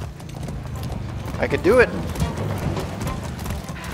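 Horse hooves clip-clop at a gallop in the video game Far Cry 6, with a brief whinny in the middle, all beneath continuous game sounds and someone talking over it.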